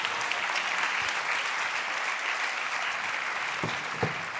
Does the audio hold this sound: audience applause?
yes